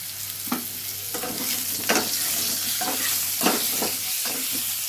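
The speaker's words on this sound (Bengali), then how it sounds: "এখন যেহেতু আলুটা ভাজছি" Potatoes fry in a pan with a steady, close sizzle, broken every second or so by brighter bursts as a spatula stirs them; no one speaks.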